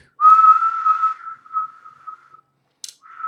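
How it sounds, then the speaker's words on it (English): A person whistles a steady, loud, sustained tone that fades into softer wavering notes, then a brief hiss and one more short whistle. "Like if I whistle, it'll show it on the frequency spectrum."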